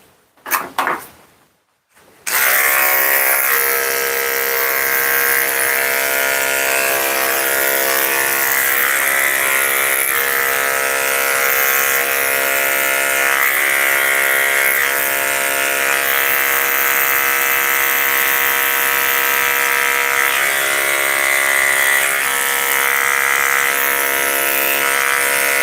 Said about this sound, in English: Alright, can I shave your feet? Can I shave your little feet?